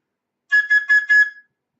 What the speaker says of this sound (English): just 1 set of 4 whistle blasts, that basically in general means stop the clock